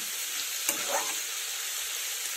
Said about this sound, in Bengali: এই সবজিগুলো ঢাকা দিয়ে ভাজতে হবে